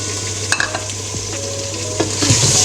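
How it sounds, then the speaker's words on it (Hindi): Chicken frying with spices in a pan gives a loud, steady hiss and sizzle, with a few brief clicks of the spoon along the way and no talking. "चिकन को भी भूनना थोड़ी देर, ऐसे मसाले डाल दो दूसरे"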